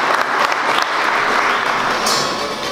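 Audience applauds steadily at a Hyundai Racing Trophy 2015 motorsport award ceremony, a dense, continuous wash of clapping that stays fairly loud throughout.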